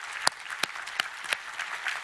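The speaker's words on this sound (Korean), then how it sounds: "우리 하나님께 감사와 영광의 박수를 드리겠습니다" Applause from a church congregation during a Sunday worship service, heard as a short spell of scattered claps with a few sharper strikes, fairly faint and distant in the sanctuary.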